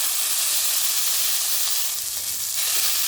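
Burger mince sizzles loudly and steadily in a hot pan as a flat spatula presses it down, a dense close frying hiss throughout.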